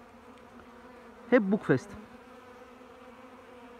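Honey bees at an apiary give a brief, close buzzing burst of under a second, rising and wavering over a faint steady background hum.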